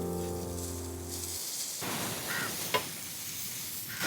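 Garlic sizzles and hisses in a hot pan as it is flipped, a steady broad fry that jumps in loudness partway through, with a few small clicks of the utensil and a low musical tone fading out at the start.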